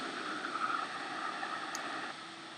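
A rocket engine throttling up in the video game Kerbal Space Program, a steady, smooth roaring hiss with a broad airy rush, held evenly and softening slightly at the end.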